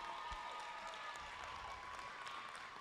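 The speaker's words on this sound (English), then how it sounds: "let's give a big old round of applause for our winning alliance captain" Steady applause from an audience at a FIRST Tech Challenge robotics qualifier in Biloxi, Mississippi, honoring the winning alliance captain team; continuous, even clapping that sounds somewhat distant and soft.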